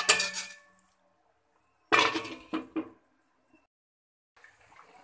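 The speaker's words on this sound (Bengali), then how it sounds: "আলুগুলো সিদ্ধ হতে ঢাকা দিয়ে দেবো।" Metal lid set onto a pot of boiling potatoes, with a bright clattering clank, a second ringing clatter with a couple of smaller knocks, then quiet and a faint bubbling hiss at the end.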